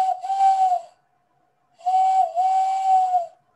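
A person whistles an imitation of a mourning dove's call: two loud, clear, sustained whistled phrases separated by a short silence, each with a slight rise and fall in pitch.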